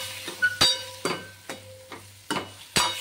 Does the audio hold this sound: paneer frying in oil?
yes